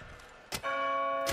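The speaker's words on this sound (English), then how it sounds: "You found a way to call the bell." A bell struck in the video game Far Cry: New Dawn gives a sharp clang, then a steady ringing tone that sustains to the end, with a second hit right at the close.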